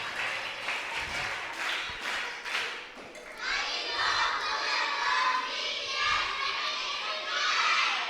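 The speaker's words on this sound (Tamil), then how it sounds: "நம்ம டீச்சர்ஸ்க்கெலாம் ஒரு ஸ்ட்ராங்காக ஒரு கைத்தட்டல் கொடுத்துட்றாமா?" An audience of children and adults at a parish Vacation Bible School closing celebration in Nagalapuram bursts into loud, sustained applause for the teachers. A voice speaks briefly before the clapping, and shouts rise within it.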